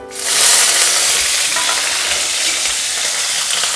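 Salt-stuffed slit green chillies hit hot oil with a loud burst of frying that settles into a dense, continuous close-up sizzle and bubbling, with no voices.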